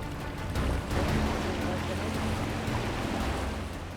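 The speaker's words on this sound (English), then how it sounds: "Motorboats are the real problem." Motorboats moving through Venice canals, heard as a steady wash of churning water and waves with a low engine rumble, loud and continuous.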